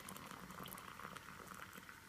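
Boiling water is poured over dry couscous grains, a faint steady bubbling, hissing pour heard alone and close.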